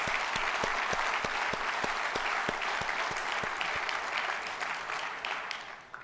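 Dinner audience at an industry association's 40th anniversary award event gives Irwin a round of applause; dense clapping fills the room steadily and fades slightly toward the end.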